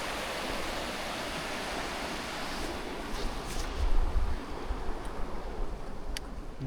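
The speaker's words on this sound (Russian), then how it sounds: "Фонтанчики, водопадики. Да, вот такие водопады. Текут с гор." Mountain runoff pours down in small waterfalls after rain, a steady broad rush of water heard close, with a few brief bumps and knocks partway through.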